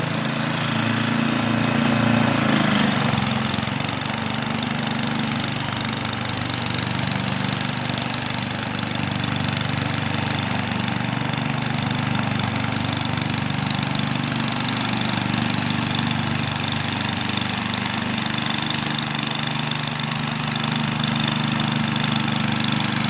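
A Husky 5000 watt portable generator engine runs steadily close by, giving a continuous even mechanical drone throughout with no talking.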